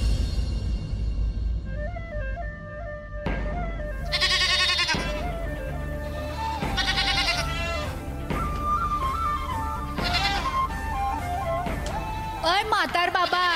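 Sheep bleat in wavering, repeated cries during a Marathi folk stage performance, heard over continuous music and voices, with several bursts spaced through the scene.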